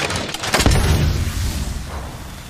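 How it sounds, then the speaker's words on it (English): A thermite grenade in Apex Legends Mobile bursts with a single heavy boom, then a rumbling, crackling burn that fades over a couple of seconds. "Throwing thermite grenade."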